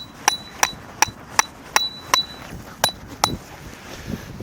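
Eight sharp metallic strikes of a hammer driving a 40 cm tent peg into the ground, evenly spaced at first, then a short gap before the last blows, close and ringing with faint clinks.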